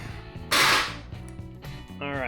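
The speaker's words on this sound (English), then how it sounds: "I'm going to torque my lug nuts to 100 foot-pounds with a 21mm socket" A torque wrench with a 21mm socket tightening new lug nuts on a 2016 Ford Edge, giving one sharp loud click at close range followed by a brief metallic ring.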